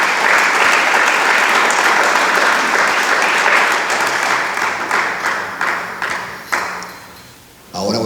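Congregation applause at a Spanish-language church service, a dense sustained wash of clapping that thins and fades toward the end, with a few sharper claps standing out.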